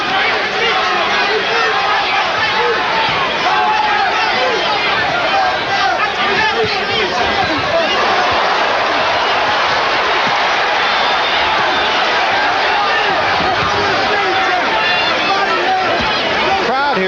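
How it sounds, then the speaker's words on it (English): A boxing crowd at the Omni roars steadily through a heavyweight fight between Tim Witherspoon and Tony Tubbs, a dense, loud, unbroken din of voices and cheering with commentators talking over it throughout. "Crowd here at the Omni, incidentally, really into this fight."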